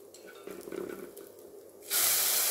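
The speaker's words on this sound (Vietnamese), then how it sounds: "Bây giờ dầu đã nóng mình cho chút hành vào" Onion and garlic hit hot oil in a pan, setting off a sudden loud, steady sizzle that fills the last half second after some quieter kitchen clatter.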